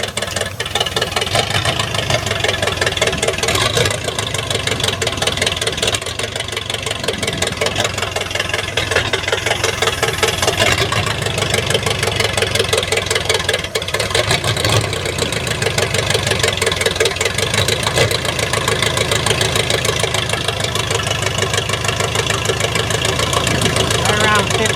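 A 1951 Ford flathead engine with a short exhaust pipe idles roughly and loudly, its steady uneven chugging running throughout while someone talks over it.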